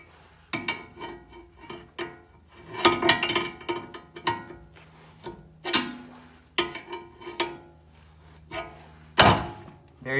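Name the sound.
ball joint popping out of steering knuckle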